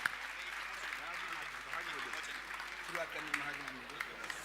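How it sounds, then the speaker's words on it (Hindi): Applause from a gathered audience at a Jain religious assembly in TT Nagar, Bhopal, with broadband clapping running steadily throughout while a voice speaks over it. "आपकी तालियों का सम्मान चाहूंगा। बजाइए ताली"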